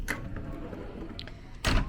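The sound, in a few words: pocket door sliding on cruise ship suite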